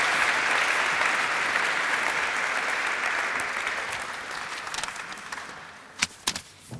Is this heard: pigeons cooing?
no